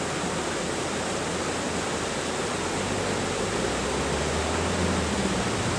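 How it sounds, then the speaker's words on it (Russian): A waterfall in Viktoriapark in central Berlin gives off a continuous, even rush of falling water, heard from the bottom of the falls with no voices over it. "Вот я нахожусь внизу, в нижней точке водопада парка Виктория, парк Победы"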